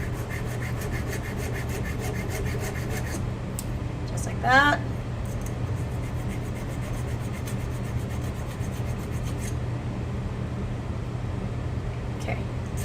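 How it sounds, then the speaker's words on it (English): A tube's edges are worked smooth with a file, giving a steady scraping, rasping rub that runs on beneath a constant hum, with a brief brighter squeak midway and a short spoken remark. "So I'm just sanding to ensure I have really nice smooth edges"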